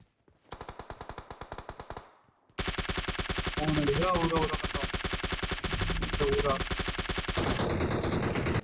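Rapid bursts of gunfire in the mobile game BGMI: a short volley, a brief pause, then sustained automatic fire with other game sounds layered on top.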